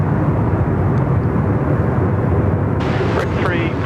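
Jet airliner taking off from runway 34 right at Sydney Airport, a steady loud roar of engine noise filling the scene throughout, with people talking nearby over it.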